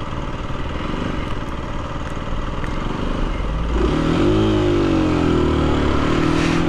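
An Aprilia motorcycle rolls through Berlin city streets on an autumn day, its engine droning steadily and loud, then rising in pitch as the rider accelerates partway through, with no talking.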